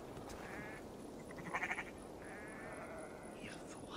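A sheep in Assassin's Creed Valhalla gives a short wavering bleat, then a couple more faint bleats follow over a steady background ambience.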